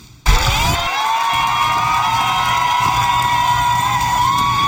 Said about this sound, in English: Tea Party protesters cheering for themselves